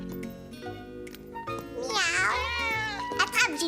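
A voice playfully imitates a cat, giving a drawn-out, rising and falling meow in a French-language cartoon, with brief child speech and background music around it.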